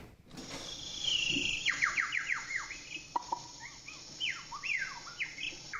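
A voice imitates a high-pitched bird call, whistling rapid descending chirps and trills in quick bursts, close and fairly loud over a steady background hiss, with no other talking.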